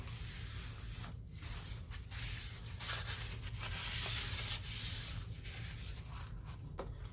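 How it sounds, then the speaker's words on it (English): A baking pan for a chocolate pound cake is wiped and scrubbed in a steady run of soft, close rubbing and scraping strokes, faint and continuous. "Let me just clean the pan."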